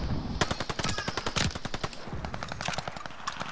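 Rapid automatic gunfire from the Call of Duty: Vanguard video game plays as dense bursts of sharp shots in fast succession, loud and continuous, with no talk.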